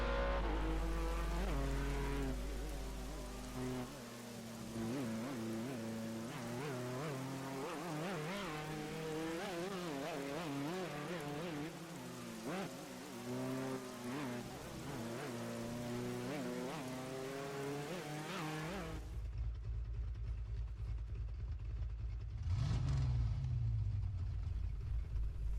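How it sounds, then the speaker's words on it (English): Race car engine from a Project CARS 2 replay, a steady harmonic whine rising and falling through gear changes for about nineteen seconds, then dropping to a low rumble with a brief sharp burst near the end. "Pay attention to how this car sounds, it is awful"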